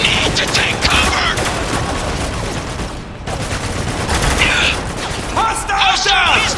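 Dense, continuous gunfire in a battle from the video game Spec Ops The Line, with heavy machine gun bursts and overlapping shots, loud and close throughout. Shouted voices come through the firing in places.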